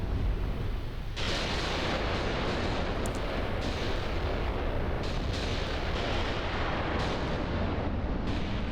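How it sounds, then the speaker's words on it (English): Katyusha rocket artillery firing in the war game Graviteam Tactics, a dense, continuous roar of launches and distant blasts with sharper cracks standing out every second or so, loud and unbroken throughout with no talking. "And they're using their Katyushas as well."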